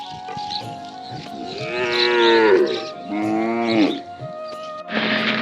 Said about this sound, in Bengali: দল বেঁধে সকল গরু এদিকে চলে আসতেছে